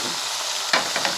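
Vegetables dropped into a loudly sizzling pan with marinated fish head, a dense frying hiss broken by a sudden burst and a couple of stirring knocks.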